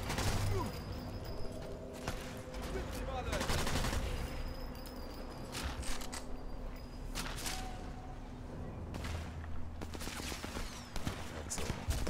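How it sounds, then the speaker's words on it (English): Heavy machine gun fire in the video game Sniper Elite 4, heard as sustained rattling bursts of rapid shots with sharper single cracks mixed in, loud and continuous across the whole stretch. "Heavy machine gun fire."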